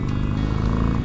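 A Harley-Davidson motorcycle engine rumbles loud and close with a dense low pulsing throb, held steady through a brief burst of throttle.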